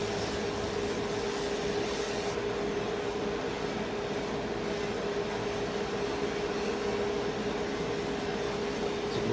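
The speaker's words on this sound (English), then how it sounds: "any of the little smoke is getting vented, getting pulled into the suction here" A fiber laser's ventilation suction pulls away smoke with a constant, loud, even whooshing roar. Its airflow hum stays steady throughout, with no talking.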